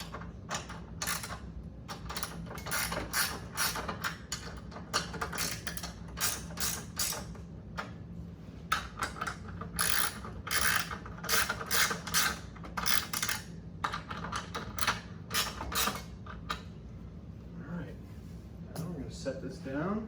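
A ratchet wrench clicks in quick repeated bursts, tightening bolts while an early solid-state pinball machine is set up, the rapid ratcheting close and fairly quiet with brief pauses between strokes.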